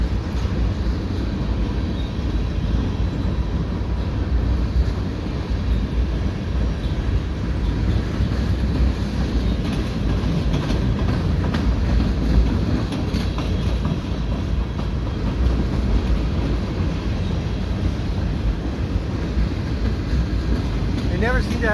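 A northbound three-engine CN freight train rolls through Saint Laurent industrial area, a loud continuous rumble of wagons with clickety-clack and faint wheel squeal sustained throughout, steady and close.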